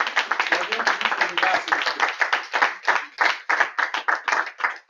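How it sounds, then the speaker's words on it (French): A room full of people at a Toastmasters club session claps steadily for the speakers, dense overlapping applause holding at a strong level for several seconds. "on applaudit, en même temps pour Régis, on applaudit pour tous les orateurs."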